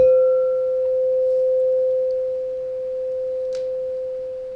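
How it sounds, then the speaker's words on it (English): A crystal singing bowl rings with a single steady, pure sustained tone that holds evenly throughout, alone with no talking and only a faint brief chime near the end. "Maybe I could check and ask you if you can hear the singing bowl."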